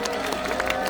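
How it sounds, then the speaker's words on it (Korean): Audience clapping and crowd noise at the 2025 Hangang Drone Light Show in Seoul, a steady, dense wash of applause filling the short moment with no break. "여러분 박수 부탁드리겠습니다"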